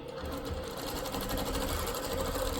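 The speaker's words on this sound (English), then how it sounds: "So I'm stitching down to my mark." A longarm quilting machine runs steadily while stitching ruler work for diagonal crosshatching, giving a continuous, fast, rhythmic mechanical whir close up, with no talking.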